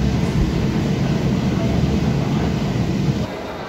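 A Kolkata Metro train runs from Esplanade toward Dakshineswar, a steady low rumble filling the space throughout, dropping slightly in level near the end as the ride continues.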